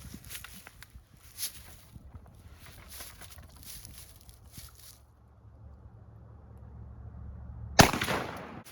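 A single loud shotgun blast from a 1956 Remington 1148 with a 28-inch fixed modified barrel, fired outdoors at 40 yards, cracks out sharply near the end after a stretch of quiet, faintly rustling open-air background.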